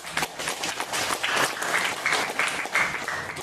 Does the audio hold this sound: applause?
yes